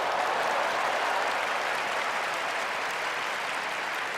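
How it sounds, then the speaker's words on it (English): A large Japanese crowd applauding at a Final Fantasy 14 keynote event, loud sustained roaring applause with dense overlapping claps, steady throughout with no speech. "That is the loudest that the JP crowd got during the entire event"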